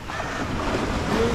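Ocean surf at Malindi beach washes in steadily at dawn, a broad continuous roar mixed with some wind buffeting the microphone, with no talking.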